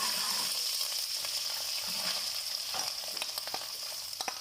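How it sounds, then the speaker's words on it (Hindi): Onions sizzling in a pan with ginger-garlic paste while cooking restaurant-style Chinese vegetable fried rice, a steady close frying hiss with a few light stirring scrapes, no voices. "अब मैं इसमें ऐड करूँगी प्याज।"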